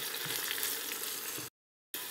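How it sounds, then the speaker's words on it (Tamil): Onions sautéing in oil in a pan for a home-cooked mushroom biryani give a steady, loud sizzle and crackle. It runs continuously, breaks into a brief total silence, then resumes. "அடுத்து வெங்காயம் போட்டு நல்லா வதக்கணும்."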